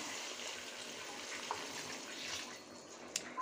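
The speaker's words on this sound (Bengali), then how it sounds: "এ পর্যায়ে আমি দিয়ে দিচ্ছি ফিল্টার করা পানি।" Filtered water pours steadily into a cooking pot of chicken curry, a soft continuous splashing stream at moderate distance with no talk.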